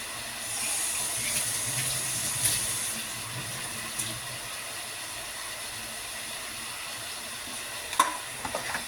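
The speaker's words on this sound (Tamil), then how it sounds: "மறுபடியும் வதக்குறாங்க." Curry ingredients sautéing in a pan, a soft continuous sizzle and hiss with occasional light scrapes and clinks of stirring, fairly quiet and steady throughout.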